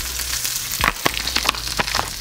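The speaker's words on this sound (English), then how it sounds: "Now that your asparagus is sizzling, go ahead and sprinkle that garlic salt on your asparagus." Asparagus sizzles in a hot pan with garlic salt being sprinkled on, a steady hiss of frying broken by several short crackling pops and stirring sounds, close and moderately loud with no talking.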